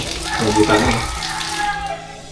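Water runs steadily from a water source on a beachfront rural property, a close, continuous splashing rush heard under a man's speech.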